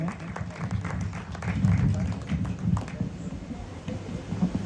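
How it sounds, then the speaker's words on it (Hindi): A crowd claps steadily, a dense patter of applause at moderate volume with a faint murmur of voices underneath. "जोरदार तालियों के साथ स्वागत हो सर का"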